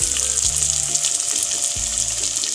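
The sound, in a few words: breaded chicken deep frying in oil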